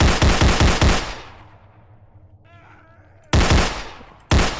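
Rapid bursts of pistol gunfire crack loudly in a SpongeBob video game, a quick volley first, then a lull with faint game noise before two more loud shot bursts close together.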